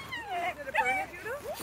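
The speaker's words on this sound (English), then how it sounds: "He's a Aussiedoodle. He's still a fluffer pupper." An Aussiedoodle puppy whimpers and whines in several short high-pitched rising and falling cries, close and clear, outdoors at a park.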